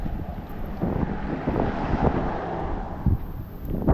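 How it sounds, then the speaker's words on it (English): Strong wind gusts on a cold November night walk in Maine, roaring and buffeting the microphone continuously for the whole stretch, with no talking. "The wind always makes it worse."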